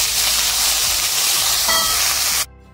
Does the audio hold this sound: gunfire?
no